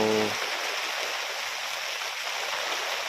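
Wind-driven rain sweeps steadily across a campsite in Thong Pha Phum National Park, a close, continuous rushing hiss, with a short voice at the very start before the downpour carries on alone.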